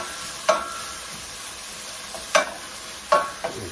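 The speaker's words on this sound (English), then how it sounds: "We'll give that a quick toss." Chopped garlic and onion get tossed in a frying pan, giving three or four brief, crisp scraping clatters over a low, steady sizzle, with no talking.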